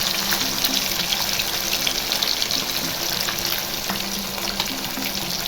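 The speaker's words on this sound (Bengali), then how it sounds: "মাছ ভাজা হচ্ছে" Fish fries in a pan with a steady, dense sizzle and crackle that stays close and even throughout, with no talking.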